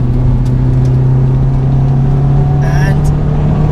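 Honda Civic Type R FD2 engine droning at high, steady revs under load, a loud sustained buzzing tone heard from inside the cabin, with a short rattle near the end.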